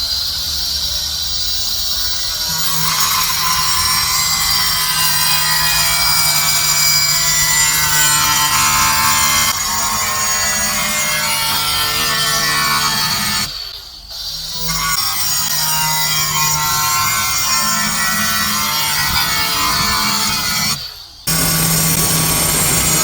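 A hand saw cuts up and down through a wooden panel during a DIY LED living room wall build, making a loud, continuous rasping hiss that stops briefly twice.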